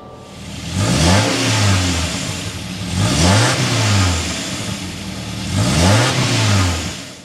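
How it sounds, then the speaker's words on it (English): A 2024 Subaru Crosstrek engine fires up and revs hard three times, each rev a loud rising then falling roar with a deep exhaust note, close by. "start up so you can hear that exhaust note"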